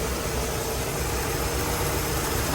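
The port gasoline engine of a boat idles in a loud, steady, close drone with an even rumble and no pauses or talk.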